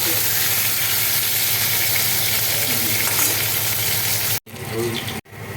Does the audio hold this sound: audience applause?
no